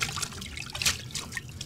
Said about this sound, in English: Shake it off a few times, knock it against the sides a few times like this